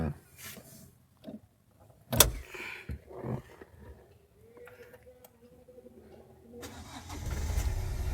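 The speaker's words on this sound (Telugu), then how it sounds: "మీకు బీడింగ్ తీసి చూపిస్తాను, ఇంజన్ సౌండ్ ఎట్లుందో మీకు ఐడియా ఉంటుంది" A 2022 Hyundai Creta 1.5 diesel starting up: clicks and a cranking burst, then the engine catching into a rising idle rumble near the end, with scattered ticks and faint voices.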